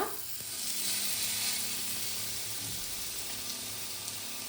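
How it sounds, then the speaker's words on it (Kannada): Bread frying in ghee in a hot pan gives a steady, close, broadband sizzle that stays even throughout, with a faint crackle and no voices. "ಈಗ ಪ್ಯಾನ್ ಬಿಸಿಯಾಗಿದೆ. ಬ್ರೆಡ್ ಹಾಕೊಳ್ಳೋಣ."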